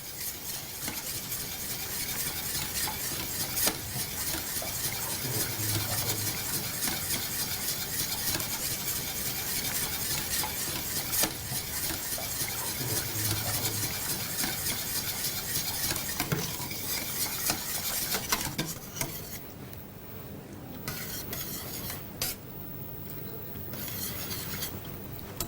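Béchamel sauce stirred in a pot, a continuous close scraping and swishing with faint sizzling, steady throughout and no talking, easing off near the end.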